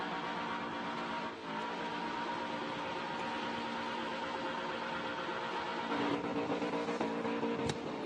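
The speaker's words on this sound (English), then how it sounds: "On the limiter, which is what you've got to do sometimes with an aspirated engine" Burnout car with a naturally aspirated engine held on the rev limiter at a Summernats burnout competition, a continuous loud bouncing engine drone with a steady pitch, heard from a distance over crowd ambience.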